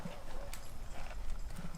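Horse hooves clip-clop at a steady walking rhythm on the ground during a ranch riding lesson, fairly quiet and close, with faint talk nearby.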